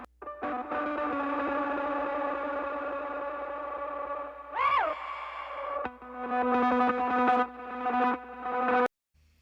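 A recording accident on a heavily effected, distorted sustained tonal bed, with a quick volume ramp down and back up midway and a brief swell, before cutting off abruptly near the end.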